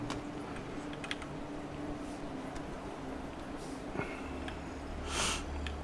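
Soft, irregular clicks of typing on a computer keyboard patter along at close range, with occasional sharper taps and a brief breathy sniff near the end.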